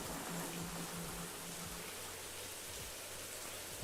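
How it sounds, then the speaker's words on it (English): Steady rain falling in a roleplay video game, a continuous broad wash of drops with a faint low hum underneath, no talking. "It is getting very, very rainy today."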